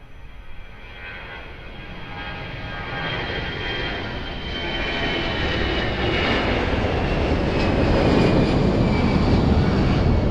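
An Airbus A320 airliner rolls for takeoff at Lisbon Airport, its jet engine roar heard from a distance and swelling steadily louder as it accelerates.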